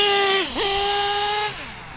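An HPI Savage X RC truck with a Novarossi 28 nitro engine screams with a loud, buzzy high-pitched whine, dipping sharply and climbing back before easing down, with no voices over it.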